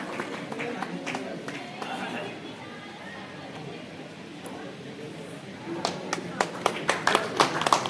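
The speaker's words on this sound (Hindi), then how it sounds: "तालियों से स्वागत होना चाहिए" Audience applause welcomes a guest at a college valedictory session, first murmured chatter and scattered claps, then sharper clapping building toward the end, moderately loud in an indoor hall.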